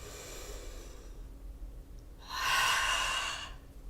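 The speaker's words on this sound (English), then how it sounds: "Pull hard through the nose and press out through the mouth." One forceful breath during a strength yoga class, a loud, rushing burst of air lasting about a second, close by and following a quieter stretch of background hiss.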